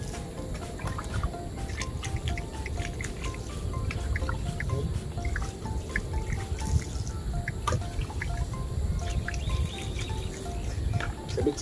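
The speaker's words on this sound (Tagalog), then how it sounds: "Muna natin diligan yung maliliit." Water splashes and trickles steadily onto small sweet potato and eggplant plants in a garden, a continuous close dribbling and dripping with outdoor background noise throughout.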